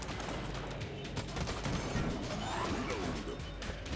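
Trash cannon weapon in Enter the Gungeon firing, dense crashing and smashing impacts in a steady barrage at moderate volume, without talking.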